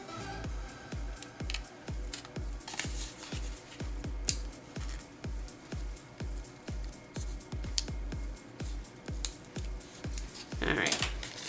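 Scissors cut through folded scrap paper in a steady series of crisp, close snips at a regular rhythm, quiet and unaccompanied by talk.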